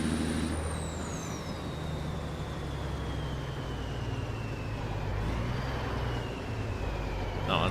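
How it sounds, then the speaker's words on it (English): In American Truck Simulator, a truck driving on snow brakes hard from about 40, with a steady engine drone and a slowly falling whine, moderately quiet and with no voices. "Jam on the brakes and see what happens."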